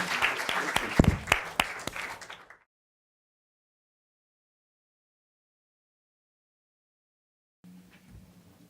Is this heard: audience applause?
yes